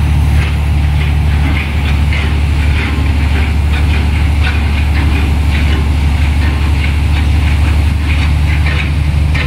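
An air blower inflating balloons beneath a newly built ship of about 250 feet and 2300 tons during its launch, a loud, steady low-pitched mechanical drone with a continuous rushing roar, close and unbroken.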